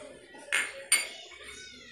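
Metal spoon clinks against a dish while honey is added to granulated sugar for a lip scrub, two sharp bright taps a moment apart, close and fairly quiet.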